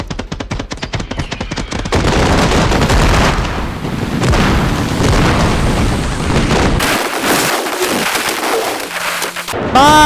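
Dense, continuous fireworks explosions in the video game Fireworks Mania, loud rapid crackling and booming bursts overlapping for several seconds, with a short quieter gap near the end before more pops.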